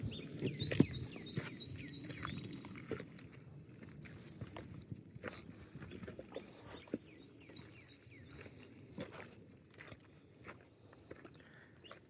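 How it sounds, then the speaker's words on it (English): Birds chirp and call intermittently along a hiking trail, short bright notes scattered over twelve seconds, mixed with nearby footsteps and soft rustling at a fairly quiet level. "Hear the birds talking to you."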